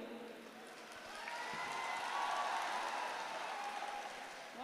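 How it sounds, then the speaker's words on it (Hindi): An audience at a ghazal poetry recital claps and applauds steadily at a moderate distance, swelling briefly in the middle before settling back down. "तालियां बजानी है तो एक बार मिलकर बजाइए।"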